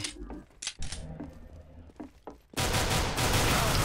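Gunfire in the video game CS:GO: a few scattered sharp shots early on, then a sudden, loud, sustained burst of rapid fire that fills the last second and a half at close range.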